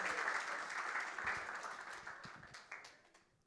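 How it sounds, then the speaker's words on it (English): An audience at an evening event claps for a speaker being introduced, a dense burst of applause that gradually fades away over a few seconds. "A round of applause for Joy Judy."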